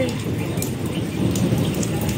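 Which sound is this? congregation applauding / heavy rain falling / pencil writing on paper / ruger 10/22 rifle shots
heavy rain falling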